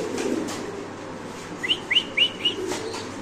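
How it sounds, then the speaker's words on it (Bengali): Spanish pigeons at a pigeon farm give four short, bright rising calls in quick succession, fairly close, over a low steady background hum. "স্প্যানিশ তো নন স্টপ ডাকতেছে কবুতর মাশাআল্লাহ"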